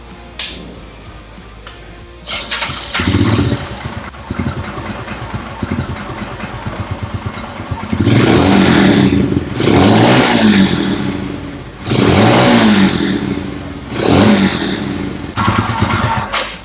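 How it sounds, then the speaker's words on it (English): A Royal Enfield Himalayan fitted with a 500cc NMW Racing big bore kit fires up for the first time, then gives several loud, close revs in bursts with an uneven idle thumping between them. "we're ready to crank the engine for the first time"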